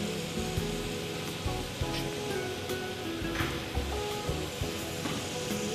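Meat skin sizzles steadily while frying in a pan, a quiet, constant crackle heard on its own without talk.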